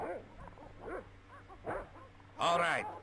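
Dogs bark in short yelping bursts inside the Broken Sword: Shadow of the Templars adventure game, with a louder bark near the end over a steady low hum and a voice talking at intervals.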